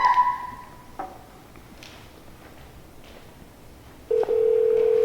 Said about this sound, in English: I'm going to call you right now if you're on here.